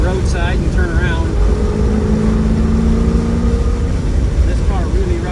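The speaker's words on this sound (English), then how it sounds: "This car really runs very well." A 1970 Pontiac GTO Judge with a numbers-matching 400 engine and four-speed gearbox drives along a roadside, its engine giving a steady, deep rumble from inside the car with a voice over it.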